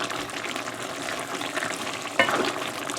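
Chicken livers and hearts frying and reducing in a pan with little water left, a steady crackling sizzle with stirring scrapes and a brief louder burst of spattering near the end, no one speaking.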